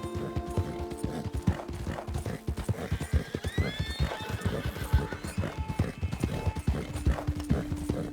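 Horse hooves clip-clop at a steady walking rhythm in the Red Dead Redemption 2 video game, close and continuous, with a brief whinny partway through and faint background tones.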